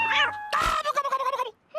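Cartoon cats meowing: a short high meow, then a longer warbling, wavering cry broken into rapid pulses, and the start of another meow at the end, loud and close with no talk.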